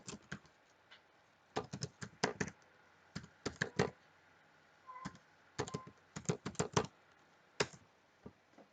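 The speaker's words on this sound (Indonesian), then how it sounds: "Kita ketikkan alamat." Someone types a web address on a computer keyboard in close, quiet bursts of key clicks separated by short pauses, with no talk.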